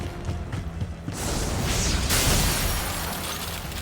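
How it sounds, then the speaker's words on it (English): Sharp crashing burst of ice shattering in Tsukihime Remake, a sudden bright, broad crack that swells and then sustains as a gritty, hissing spray of fragments for a few seconds, alone without talking. "I hear the sharp noise of ice shattering behind me"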